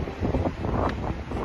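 Steady wind roaring across a microphone along the Singapore riverside at Clarke Quay, a continuous broadband rush with gusty swells and no voices.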